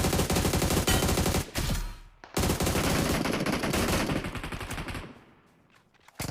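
Automatic gunfire in the mobile battle-royale game BGMI rattles in dense, loud rapid-fire bursts with brief gaps, fading toward the end, with no voices over it.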